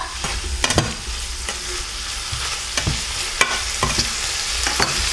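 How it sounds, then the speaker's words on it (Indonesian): Fried rice noodles with tofu, sweet soy sauce and salt being stirred in a hot pan, with steady sizzling broken by repeated sharp scraping and clattering strokes. "kecap manis sedikit ya, sweet sauce ya, terakhir garam. Aduk semua rata."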